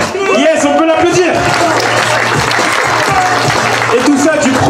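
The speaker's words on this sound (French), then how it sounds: "Yes, on peut l'applaudir." Crowd at a grape harvest festival clapping and cheering for a football freestyle trick, dense continuous applause with shouts, loud and close, while an announcer talks over it.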